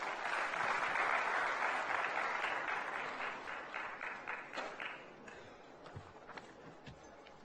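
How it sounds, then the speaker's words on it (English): An audience at a literary festival gathering welcomes a speaker with a broad round of applause that starts loud and full, then gradually thins into scattered, fading claps. "A warm round of applause as we welcome her."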